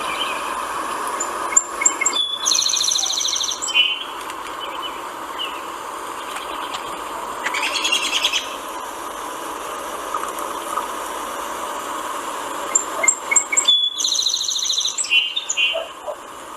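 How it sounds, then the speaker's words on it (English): Bright, musical bird song in repeated warbling phrases, with pauses between bursts over a steady background hum. "The first one is the bird song."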